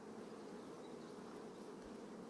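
Honey bees swarm and buzz steadily at an opened hive, a dense continuous drone close by with no pauses or voices.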